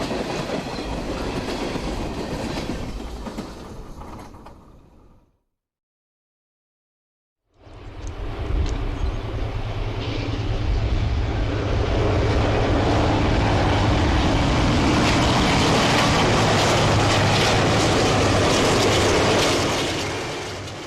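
Freight train rolling along the former Burlington main line near Galesburg, Illinois, loud and close with steady wheel and rail rumble, cutting out briefly mid-pass before the train noise returns and builds to a sustained roar.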